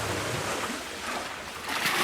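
A desert irrigation channel near San Pedro de Atacama running full, giving a steady broadband rush of flowing water close by, with no talking.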